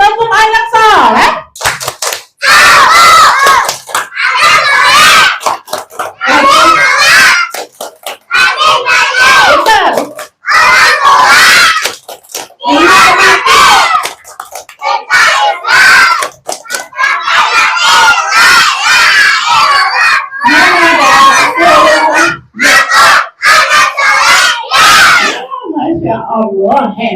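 A group of children chants the 'tepuk anak soleh' clapping rhyme in loud unison, their rhythmic hand claps punctuating the shouted words, with an adult voice leading them indoors.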